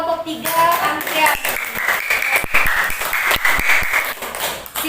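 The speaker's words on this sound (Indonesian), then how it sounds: "Beri tepuk tangan dong buat kelompok 3 Andrea." Classroom applause for a student group, a dense patter of clapping hands from pupils that runs the whole time, mixed with chatter and voices talking over it.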